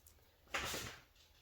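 A dog shakes her ears in one quick floppy rattling burst lasting about half a second, close by in a quiet room.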